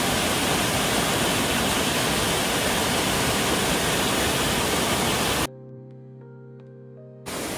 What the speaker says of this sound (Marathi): असा काही धबधबा आहे